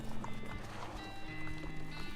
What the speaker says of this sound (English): Tina whinnies as you approach.